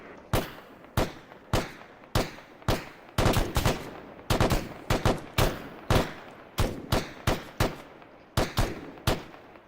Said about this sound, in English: Can you get that shot, Mendoza?